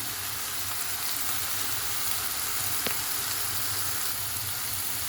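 Mushrooms and green pepper sauté in a pan, giving a continuous, even sizzling hiss that stays close and steady throughout, with no voices.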